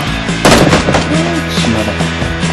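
Close, loud gunfire in the battle royale game PUBG (Battlegrounds), a few sharp shots cracking out amid a firefight, with another sharp report at the start.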